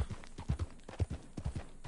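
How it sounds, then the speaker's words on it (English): Horse hooves clip-clop steadily on the ground in Red Dead Redemption 2, a close, even walking rhythm of soft thuds with no talk over it. "You don't get to get Buell, this beautiful horse right here that I'm riding."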